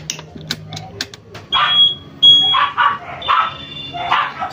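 A newly wired motorcycle turn-signal buzzer gives repeated short electronic beeps in an uneven series, loud and close, over faint background noise.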